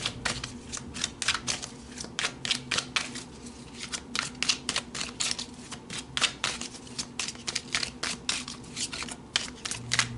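Tarot cards being shuffled and drawn by hand, with a steady run of crisp, close riffling and snapping card sounds in quick irregular bursts.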